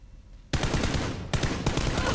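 Rapid automatic gunfire from the PUBG battle royale game played on Xbox One, loud bursts starting abruptly after a quiet moment, a brief gap, then more sustained shooting.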